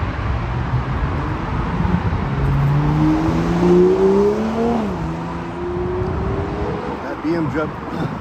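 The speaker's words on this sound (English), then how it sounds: "BMW driver is wasting absolutely no time to get onto the access there" A BMW accelerating onto a highway access ramp in the city: the engine note climbs steadily through a gear, drops briefly at a shift and rises again over street noise, passing at moderate distance.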